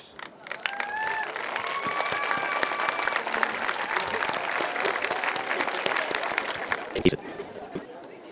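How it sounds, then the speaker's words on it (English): Graduates at a 2021 high school graduation ceremony stand and applaud their families, a steady, dense wash of clapping from a large crowd with chatter and cheers mixed in, sustained throughout. "I'd like to ask at this time that all graduates please stand, turn to face the audience, and applaud your biggest supporters."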